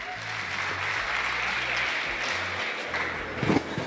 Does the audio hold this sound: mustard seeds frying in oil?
no